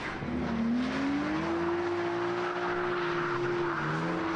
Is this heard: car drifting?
yes